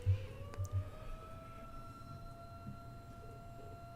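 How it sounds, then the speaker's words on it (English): A faint siren wails steadily in the distance, its pitch slowly rising over a low rumbling background, with a few soft thumps of beating drums. "Hear those sirens?"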